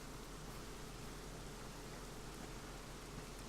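Steady, even rain hiss in Dragon Quest XI fills the whole stretch, a dense uniform wash with no individual drops standing out and no voices.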